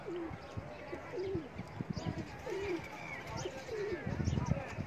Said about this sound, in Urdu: یہ کبوتر ہے